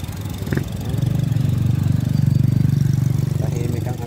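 A 2011 Honda City automatic idles steadily close by, a low even engine hum running throughout with a brief tick near the start.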